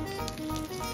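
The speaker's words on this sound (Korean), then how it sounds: "지글지글 5분 할게요." Homemade pizza topped with sausage, mushrooms, mayonnaise and ketchup sizzles in a pan on low heat, giving a steady, faint hiss and crackle with no voices.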